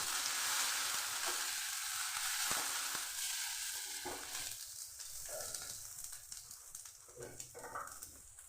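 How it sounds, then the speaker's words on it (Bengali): Spices with turmeric sizzle and fry in a pan, a loud steady crackle at first that thins out with stirring scrapes and small bursts as it continues. "মশলা খুব ভালো করে আমি ভেজে নিচ্ছি"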